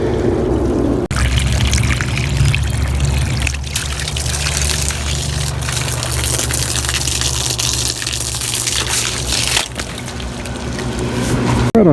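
Soapy water from a GIANTEX portable washing machine gushes steadily out through a raised drain pipe, making a loud, close, continuous pouring rush with a few brief clicks and knocks along the way.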